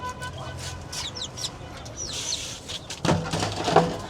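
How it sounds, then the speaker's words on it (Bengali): Ducks being let out of their pen give a run of short clucking, quacking calls at close to middle distance over quiet outdoor background noise, with a louder flurry of calls near the end. "হাঁসগুলোকে ছেড়ে দিলাম"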